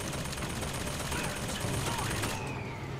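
Rapid gunfire from a firearm in the video game Bioshock Infinite, a dense burst of shots blending into loud, continuous noise across the whole moment, with no talk over it.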